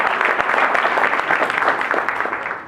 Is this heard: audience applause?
yes